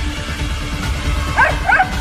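A dog in a horror story gives a few short yips and barks late in the sequence, muffled as if from inside a closed store room, over a low rumbling background.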